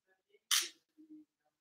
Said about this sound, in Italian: Così come potrei fare un terzo scatto